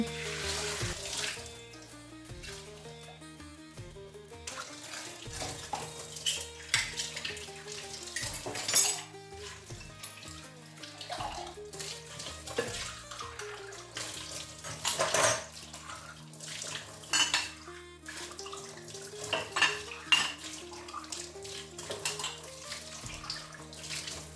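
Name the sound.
washing dishes under running tap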